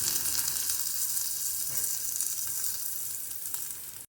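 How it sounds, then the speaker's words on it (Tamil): Crushed garlic sautéing in hot oil for a channa dal and potato kootu, a close, even sizzle and crackle that eases slightly before cutting off abruptly. "இடித்த பூண்டையும் ஆட் பண்ணி கொஞ்சம் வதக்கி எடுத்துக்கிறேன்"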